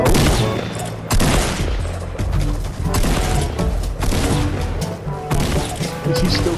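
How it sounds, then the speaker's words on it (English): Rapid, sustained gunfire from a gun in the Fortnite battle royale video game, a dense barrage of loud shots with a few short gaps, all close and unbroken by talk. "He's still shooting."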